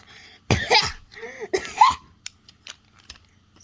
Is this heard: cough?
yes